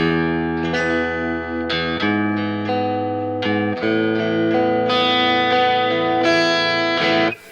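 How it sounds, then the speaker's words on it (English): Sustained electric guitar chords swell and drone, heavily drenched in reverb, each chord ringing into the next with a soft, airy wash. "a droning, really swelly ambient sound for guitar"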